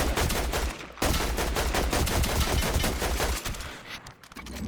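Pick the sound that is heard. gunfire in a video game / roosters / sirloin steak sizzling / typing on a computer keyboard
gunfire in a video game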